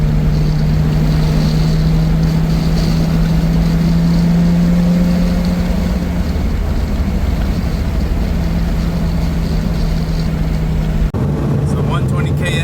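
Steady, loud engine drone from inside a car cruising on the highway at about 120 km/h and 3,000 RPM, a constant low hum with road noise throughout and a brief shift near the end.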